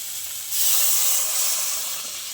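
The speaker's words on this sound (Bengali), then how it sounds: "আমি মশলা বাটি দিয়ে জল দিয়ে দিচ্ছি।" Water poured into a hot pan of frying rice and spices for a rice and pointed gourd dish bursts into a loud, steady steam hiss that swells, holds for a couple of seconds, then eases slightly.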